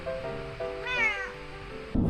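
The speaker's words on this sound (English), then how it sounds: "This cat follows us all over in the fields." A cat following people around farm fields in winter meows a few times, the calls rising and falling clearly and close by, ending with a brief rustle.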